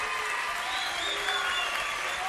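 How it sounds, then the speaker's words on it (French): Steady applause from a television studio audience fills the whole stretch, dense and loud without pause. "Applaudissements pour elle."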